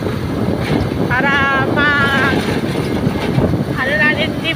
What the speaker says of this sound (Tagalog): Saka medyo malakas yung hangin. Sobrang lakas.